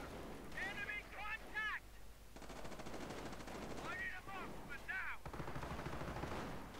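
Rapid bursts of gunfire from a World War II video game battle at an airfield on Crete, several close volleys in succession with sharp repeated shots and a steady engine drone beneath.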